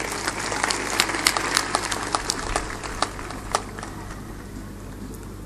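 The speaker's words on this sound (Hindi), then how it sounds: "एक बार ताली बजा दो।" An audience at a religious discourse gathering in Mainpuri claps steadily, a dense, even patter of many hands sustained throughout at moderate loudness.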